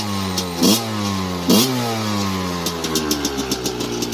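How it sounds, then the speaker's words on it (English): A big-bore Yamaha YZ125 dirt bike with an FMF exhaust is kick-started, revs sharply twice, then settles into a rapid, steady idle with a crisp exhaust note, close by. "It's got a beautiful sound to the FMF exhaust."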